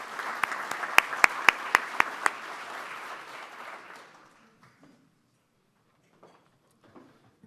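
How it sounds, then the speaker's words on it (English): An audience applauds visiting guests at a community gathering, steady clapping with a few sharp close claps standing out, dying away after about four seconds into near silence. "Let's give a big round of applause to all of our visitors"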